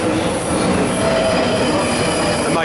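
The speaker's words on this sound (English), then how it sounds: "That's a tube train." A London Underground tube train pulls in, wheels squealing in high, shrill tones over a steady loud rumble and rail noise that continues throughout, with no talking.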